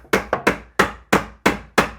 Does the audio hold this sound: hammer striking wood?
yes